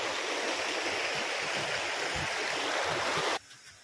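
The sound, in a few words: water flowing at Daranak Falls stream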